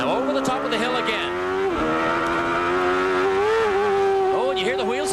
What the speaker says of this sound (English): Oh, and you hear the wheel spin? Car got light.